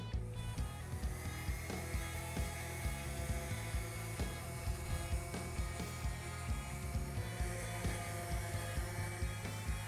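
An orbital sander works over the bottom face of an end grain wooden cutting board, giving a steady close buzz under repeated scraping and knocking, with no talk.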